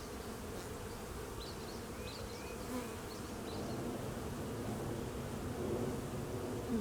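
Honey bees buzzing steadily at a hive opened for a winter inspection, a dense, even drone with a few brief louder passes of individual bees, no voices.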